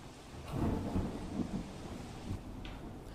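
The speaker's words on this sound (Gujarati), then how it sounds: "બીજી બાજુ સતત વરસાદ વરસી રહ્યો છે" Heavy monsoon rain falls in a continuous wash on Tharad, Banaskantha, Gujarat, with deep rumbling swells rolling underneath.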